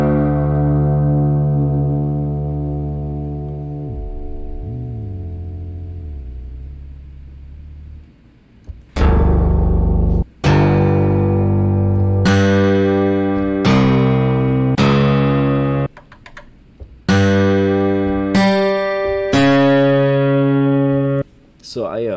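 Synthesizer from a three-oscillator, two-filter VST plugin with samplers and stutter effects: a long droning harmonic tone that bends and fades, then loud, bright, distorted chord stabs and sustained notes cut off abruptly, close and dense, with no speech.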